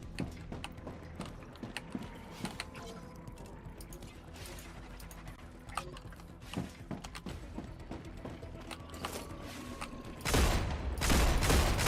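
Gunfire in the Star Rupture game, scattered sharp shots popping irregularly over a mechanical ambient hum, building to a loud, dense burst of firing at the end.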